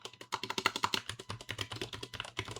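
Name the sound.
typing on a computer keyboard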